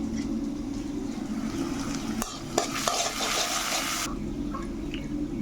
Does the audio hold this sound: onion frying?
yes